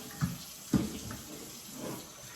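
Water runs steadily from a tap close by, with a couple of soft knocks and splashes as something is rinsed under the stream.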